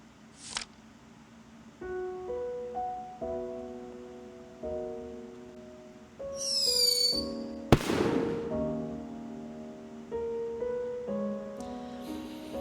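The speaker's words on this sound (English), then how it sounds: "there will be fireworks at the funeral" Funeral fireworks in the oriental horror game Firework: a descending tonal melody plays while a whistling rocket rises and a sharp bang with crackling bursts lands midway, all fairly quiet and without speech.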